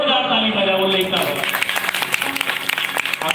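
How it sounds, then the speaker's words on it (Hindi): Audience at a Shri Ramcharitmanas recitation event bursts into loud, sustained clapping after a musical phrase fades, dense applause filling the rest of the moment. "जोरदार ताली बजाओ लेकर।"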